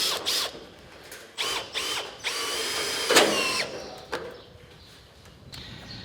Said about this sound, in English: we're fixing the purlins with a screw from Fortress. It's designed for drilling into metal.